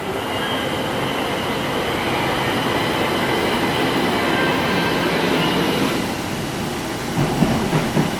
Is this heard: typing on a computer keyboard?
no